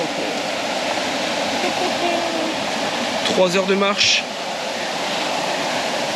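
Steady rushing water from a small waterfall in Meta, Colombia fills the background continuously, loud and close, while a brief voice speaks over it midway.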